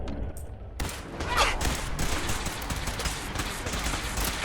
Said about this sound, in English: oh, fire explosion. I hate these weapon effects.